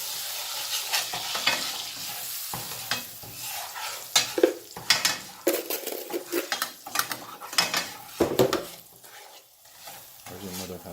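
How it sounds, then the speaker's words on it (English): A spoon stirs half a cup of sugar in a pot on the stove, a close, steady scraping swirl with frequent clinks of metal against the pan, with no talking over it. "That's a half a cup of sugar. It needs to be stirring."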